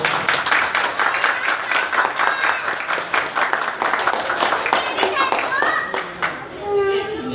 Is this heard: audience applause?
yes